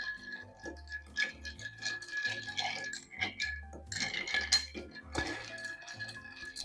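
A bar spoon stirring ice in an Old Fashioned cocktail, with close, quiet clinks and rattles of cubes against the glass in a steady, repeating rhythm.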